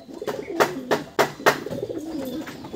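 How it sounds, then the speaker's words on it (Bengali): A kaldom-type pigeon from Mogra market coos close by, several soft, rounded coos in a loose rhythm over faint background murmur. "এবার একটা কালদম টাইপের পায়রা দেখাবো, সবই মগরা হাটের পায়রা।"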